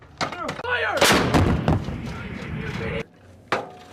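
A U.S. Marine artillery gun fires a round during live-fire training, a single loud near blast with a long rumbling decay, followed by a second sharp report; shouted commands surround it.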